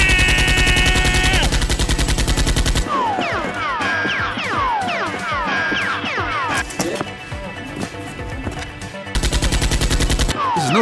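Rapid video game gunfire in a Half-Life 2 style shooter, with dense bursts of automatic shots and ricocheting, whizzing effects filling the scene continuously at close, loud range.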